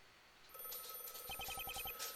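A telephone rings in a Stanley Parable-style video game, its bright electronic trill repeating in quick pulses after a soft hum, close and clear with no speech.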